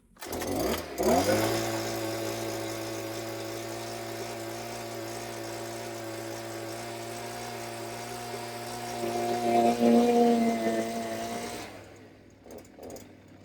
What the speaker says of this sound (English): Let's try starting it and see if it'll idle now.